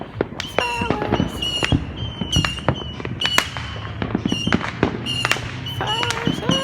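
Fourth of July fireworks crack and pop all around, some near and sharp, others distant, with whistling rockets and occasional talk in the background.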